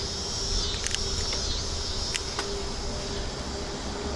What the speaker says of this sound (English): Did you hear the cicadas?